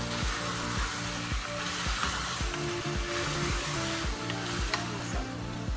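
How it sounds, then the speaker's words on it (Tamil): Mutton dusted with chilli powder sizzles and fries in a pan while being stirred, a steady loud hiss broken by regular scraping strokes of the spoon at an even rhythm, with no one talking. "மட்டனையும் அதுலேயே போட்டு நம்ம நல்லா கிண்டிக்கணும்."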